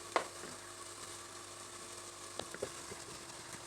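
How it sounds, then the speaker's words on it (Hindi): Chicken pieces go into a pan of golden-brown frying onions, bringing a low, steady sizzle with a soft clatter at the start and a couple of light knocks later, faint and without talk. "अब ये मैं इसमें चिकन डालूँगी"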